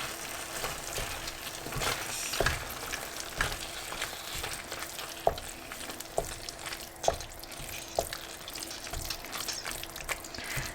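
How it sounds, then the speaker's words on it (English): Minced lamb with spices fries in hot oil in a pan, giving a soft continuous sizzle. Scattered clicks and scrapes from a spoon stirring the mixture recur every second or so. "we're going to add the meat. And go ahead and mix this in."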